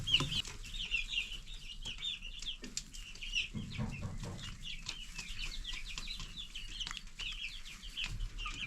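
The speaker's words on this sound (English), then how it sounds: "hopefully these meat birds, these broilers, will start growing a little bit better here now that they're all by themselves" Broiler meat chickens cluck and chatter in a pen, a steady mix of soft clucks and occasional wing flaps at moderate distance, with no talking.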